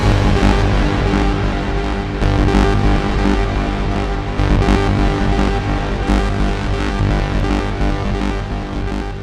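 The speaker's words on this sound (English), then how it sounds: "What you're hearing is a subtle use of this kind of trigger sequencing." Dense, loud Eurorack modular synth texture with a melody driven by a filter working as a trigger sequencer, a continuous buzzy drone with rhythmic pulses running throughout.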